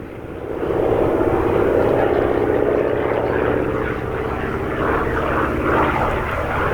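An A-1 Skyraider propeller warplane drones loudly overhead during a close air support demonstration, its steady engine roar holding strong before slowly fading as it passes.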